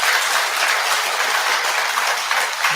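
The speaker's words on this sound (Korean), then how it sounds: "동의하시면 큰 박수 한번 부탁드릴게요." A temple congregation at a Buddhist New Year prayer service breaks into sustained, dense applause, a steady wash of many hands clapping close by with no talking over it.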